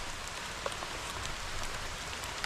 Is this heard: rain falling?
yes